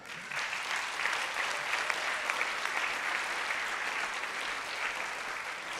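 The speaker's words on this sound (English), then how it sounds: "Let's give them a round of applause." A church congregation claps steadily in sustained applause, a dense even patter of many hands that holds for the whole stretch with no talking over it.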